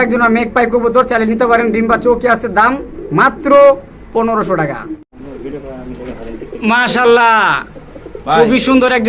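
Danish pigeons coo in low, rolling murmurs at a pigeon farm, mixed in with people talking loudly nearby throughout.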